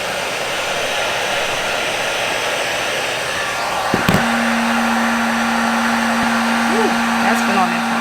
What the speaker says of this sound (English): So I'm going to take a heat gun and I'm just going to blow that, heat that up.